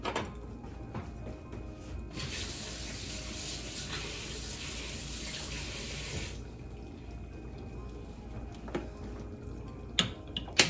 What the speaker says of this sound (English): now let's wash my spoon here